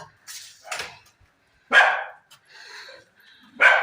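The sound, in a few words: dog barking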